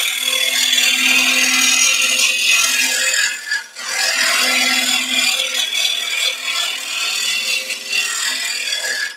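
A chisel cuts spinning wood on a lathe while a potpourri pot is turned, giving a loud, continuous scraping hiss close by that briefly dips once and then resumes.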